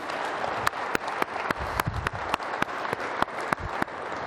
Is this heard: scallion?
no